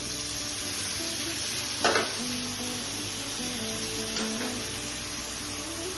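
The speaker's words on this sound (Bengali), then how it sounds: "এখন আমি জল দিয়ে দিচ্ছি" Water poured into a fish curry simmering in hot oil sets off a continuous sizzle and crackle, with a couple of brief splashy bursts and faint stirring close by.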